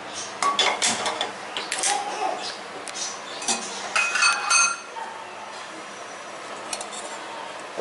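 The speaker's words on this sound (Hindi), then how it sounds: "अब एक कढ़ाई लेंगे" A kadai (wok) is set down on a stove in a home kitchen, with a series of close metallic clinks and clatters of pots in the first few seconds, then quieter handling sounds.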